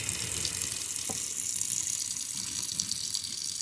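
Tap water runs steadily into a sink while a deer heart is being cleaned and trimmed in a salt brine, a constant close gushing stream with no talk.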